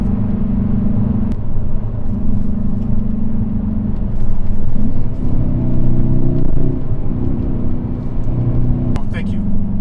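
A 2020 Hyundai Veloster N droning under steady throttle on the Angeles Crest Highway, a continuous low engine rumble heard from inside the car with a faint tonal whine.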